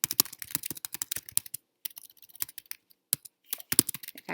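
Fast, crisp clicks of typing on a computer keyboard, close and clear, in quick bursts separated by brief pauses.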